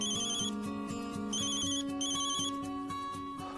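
Mobile phone ringtone playing a repeating electronic melody of bright, evenly spaced tones in a home, clear and steady throughout with no talking over it.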